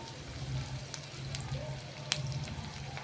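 Sliced onions sizzling as they fry in oil in a pan for a spiced lentil and tomato curry, a steady, even crackle with a few sharp pops, close and quiet, with no talk.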